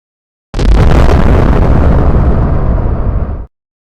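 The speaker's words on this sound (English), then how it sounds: "One explosion appears to happen at the rear of the spacecraft, around the main engines, perhaps in one of the 2 solid rocket boosters" A space shuttle explodes during launch with a sudden, very loud roaring blast that holds as a dense, rumbling wall of sound for about three seconds and then cuts off abruptly.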